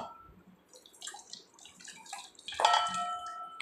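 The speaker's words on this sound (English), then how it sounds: "Now I'll open the cap and I'll empty the warm water" Warm water is emptied out of an opened bottle during a children's science kit experiment, starting as a sudden close splashing gush partway through and running steadily to the end after a few quiet moments.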